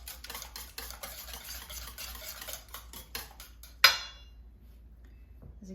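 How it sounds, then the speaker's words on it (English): A spoon stirs a creamy dish in a pot with rapid, rhythmic scraping strokes up close, ending in a sharp clank against the pan, then near silence. "I'm going to quickly stir that up"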